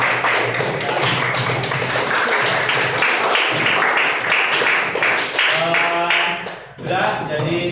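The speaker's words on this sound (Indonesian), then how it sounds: "kita kasih tepuk tangan dulu untuk kelompok 4." A class claps for a student group in a school lesson, with dense, steady applause lasting about six seconds before it fades and a voice begins speaking.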